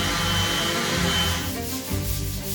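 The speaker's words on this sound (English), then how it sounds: "Sanding the hull of a boat like this for hours" Sandpaper rubs back and forth over a varnished wooden dinghy hull in steady, close scraping strokes, the rhythm easing briefly before resuming.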